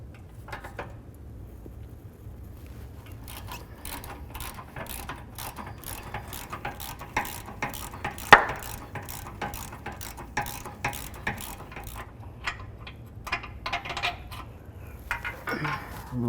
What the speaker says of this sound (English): I'm going to get right on that bolt and remove this one as well.